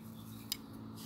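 Scissors snipping through tape wrapped around a fiberglass tent pole, a single quick faint cut over a low background hum.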